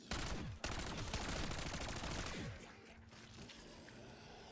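Rapid automatic gunfire from Call of Duty Warzone rattles in a dense, loud burst for about two seconds, then cuts off to a quieter background.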